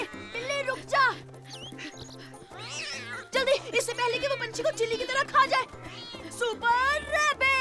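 Cartoon cat gives high, wavering meows and yowls amid busy animated music and character voices, the cries rising and falling quickly throughout.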